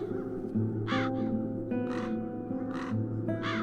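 Crows cawing in The Dark Eye adventure game, several harsh caws spaced about a second apart over a steady low ambient drone, fairly close and clear.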